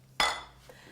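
Scoop striking the bowl of a Cuisinart ICE-31 while serving fresh fruit dessert: one sharp close clink followed by a faint softer tap, with no talk.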